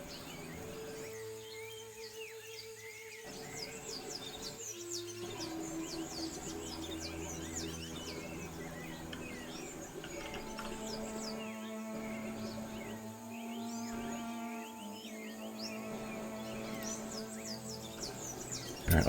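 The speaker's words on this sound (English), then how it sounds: "the ant birds are circling overhead" Antbirds in the game Empires of the Undergrowth give repeated high chirps and calls over a steady ambient game soundscape with sustained musical tones, moderately faint throughout.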